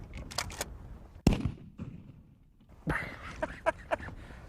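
A few sharp gunshots ring out at a distance, separated by pauses, with faint voices and rustling between them.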